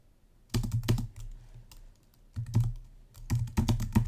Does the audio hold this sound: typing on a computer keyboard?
yes